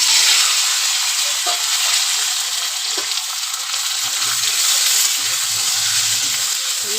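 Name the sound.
potatoes and drumsticks frying in oil with black cumin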